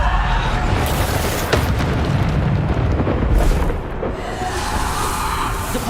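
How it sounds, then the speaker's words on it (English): A Bombarda spell explosion in Hogwarts Legacy sets off a dense, loud, sustained rumbling blast with a sharp crack partway through, booming steadily before easing slightly toward the end. "Bombarder."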